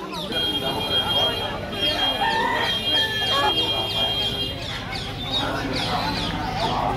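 Roosters crow and hens cluck close by at the busy village poultry market in Kashipur, a steady din of calls layered with people talking in the background.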